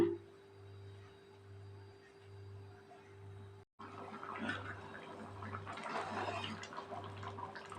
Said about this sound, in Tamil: குழம்பு நல்லா கொதிஞ்சு வந்துருச்சுங்க